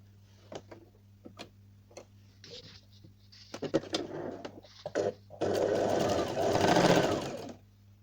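A sewing machine runs briefly, stitching fabric edges with blue thread, preceded by scattered clicks and taps of handling and adjustment, then a short steady mechanical whir near the end, close and quiet.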